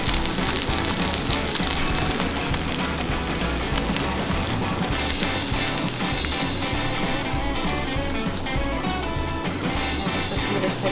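Eggnog French toast frying in a pan, a loud, steady sizzle with crackling spatter running close up and unbroken throughout.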